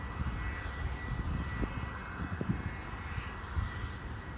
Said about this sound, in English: That's a pretty big airplane right there.